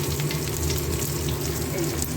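Capsicum and carrot frying in hot oil in a home kitchen pan, a steady close sizzle with faint crackle running throughout, no talk over it.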